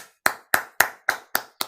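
Hands clap in a slow, even beat, about four claps per second, crisp and close with clean gaps between each one, welcoming a speaker at a training program in Gujarat.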